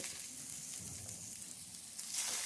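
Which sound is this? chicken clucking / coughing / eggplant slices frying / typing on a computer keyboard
eggplant slices frying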